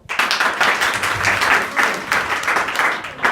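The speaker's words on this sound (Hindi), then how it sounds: "इनके लिए ताली बजाओ।" Schoolchildren at a junior high school assembly clap together in a dense, sustained round of applause, loud and close, filling the whole stretch without any speech.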